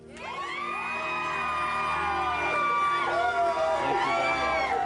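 A crowd gathered outside a courthouse reacts loudly to a man's joke, with sustained cheering, whoops and shouted voices building into a dense, steady roar that holds for several seconds.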